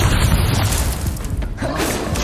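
A Confringo blasting spell explodes in Hogwarts Legacy, a loud close boom with a crackling burst that rumbles and fades over a couple of seconds.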